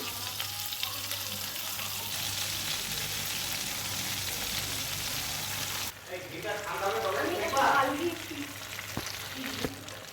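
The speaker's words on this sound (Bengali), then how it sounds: "এটা পুরোটাই ঘি হয়ে যাবে আর একটু বেরোবে দেখো কতটা ঘি হবে" Cream frying down into ghee in a pan gives a steady, close sizzle that turns busier and bubblier partway through, with some stirring and a faint background hum.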